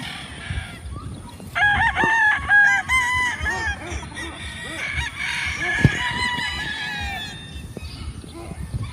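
Several roosters crow repeatedly on a large chicken breeding farm in the Philippines, overlapping calls near and far over a busy background of clucking and other fowl, with someone talking between the crows.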